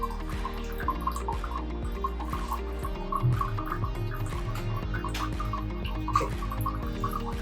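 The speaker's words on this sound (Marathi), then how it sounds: "सेम जार मधलं पाणी सुद्धा आपण बघा इन्स्टंट घेतोय" Water poured from a portable alkaline water jar into a container for a pH test, a steady close trickle with small drips and gurgles running throughout.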